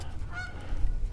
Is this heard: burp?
no